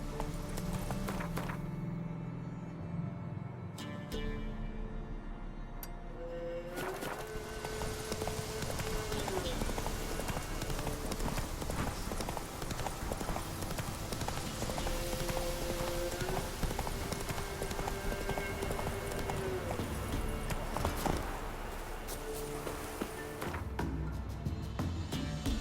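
Roach, Geralt's horse in The Witcher 3, trots steadily with an even clip-clop of hooves that runs throughout, under light game music and a brief spoken line.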